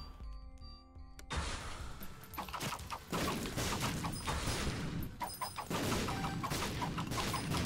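Rapid bursts of sword shots in a video game, Spirit Sword combined with Ipecac, arriving as loud crackling volleys in repeated waves after a brief quieter opening, with no voices.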